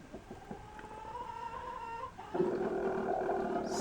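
A pet rooster sitting in a nest box makes odd low, drawn-out guttural calls, steady and close, with a louder, rougher stretch toward the end and no voices.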